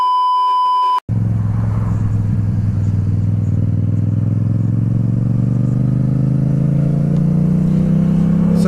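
A Yamaha MT-07 motorcycle rides along after a brief beep, its engine a loud continuous drone that rises steadily in pitch as it accelerates, with wind rush.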